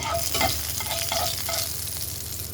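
Bengali five-spice seeds fry in a little hot oil in a kadai, a constant close sizzle broken by several quick scraping stir strokes of a spoon in the first half.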